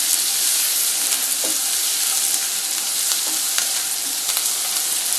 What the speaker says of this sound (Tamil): தக்காளியும் போட்டு வதக்கிடலாம்